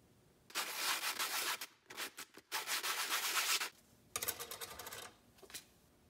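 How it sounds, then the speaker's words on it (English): Sandpaper is rubbed over the mating surfaces of 3D printed plastic parts in close, brisk bursts of scratchy strokes, with short pauses between passes. "we're going to sand the mating surfaces of these two parts"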